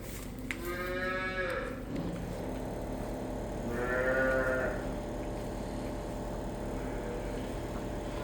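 A black and white lineback cow moos twice, with long, low calls a few seconds apart against a quiet barn background.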